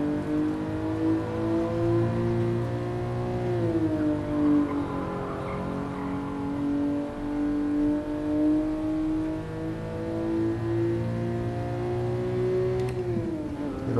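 Steady engine drone of a 1967 Toyota 2000GT in GT Sport, holding a constant pitch with brief dips and rises where gears change, continuous and close throughout.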